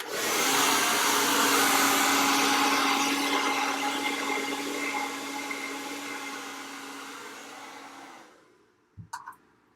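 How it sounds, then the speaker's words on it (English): A blow dryer roars steadily at close range while drying and reshaping a section of hair over a round brush, then cuts off near the end, followed by a couple of brief clicks and knocks. "So I'm gonna grab my blow dryer and grab that section and rebend it."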